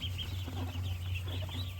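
Five-day-old ducklings in a pen on a duck farm with about 2000 birds, faint high peeping and chirping over a low steady hum from the enclosure.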